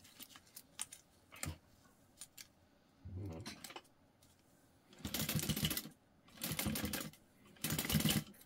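Sewing machine top stitching a bag with its tabs flipped away, running in three loud, steady bursts of about a second each after a few softer clicks and handling noises, with no talk.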